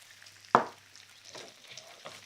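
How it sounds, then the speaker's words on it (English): Peppers and courgettes frying in a pan over high heat, with a sharp clatter of the utensil followed by a steady close sizzle and scraping stirs. "Put it back on a high heat and stir for around a minute."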